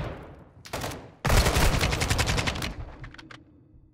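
Automatic gunfire in the video game Call of Duty Modern Warfare II, a short burst followed by a louder sustained rattle of rapid shots that tails off, close and loud with no talking.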